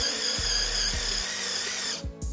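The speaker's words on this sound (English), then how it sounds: "Get the point right on the center of your cross or your mark and start drilling" A power drill whirs at high, steady speed with a paddle bit boring into wood, bogging briefly at a few moments before cutting off near the end.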